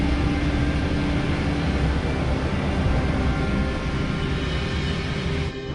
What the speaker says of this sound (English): BA38 received takeoff order from ATC. B1. Rotate. Positive rate.